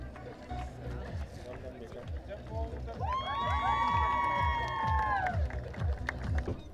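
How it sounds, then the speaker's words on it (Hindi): A crowd at a children's prize ceremony for a spring flowers competition cheers, with rising shouts and excited voices swelling in the middle. Amplified talk and rhythmic low thumps run underneath. "बहुत सारी तालियों में इन बहुत प्यारे प्यारे बच्चों के लिए"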